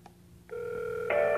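An IP video intercom kit rings for an incoming call with a faint chirp, then steady electronic ringing tones that step up louder partway through. No one talks.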